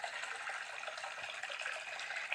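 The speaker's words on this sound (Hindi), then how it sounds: "यहाँ पर पानी बह रहे हैं" Fresh water flows over rocks in a stream at Kapil Kund near a temple, giving a continuous, even rushing wash with no voices.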